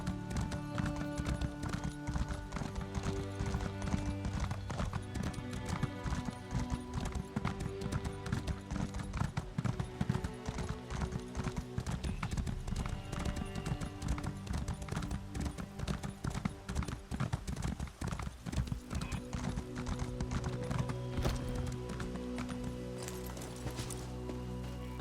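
Horse hooves clip-clop in a fast, steady rhythm while a rider travels on horseback in Elder Scrolls Online, layered over dense game music and ambience that runs for the whole stretch.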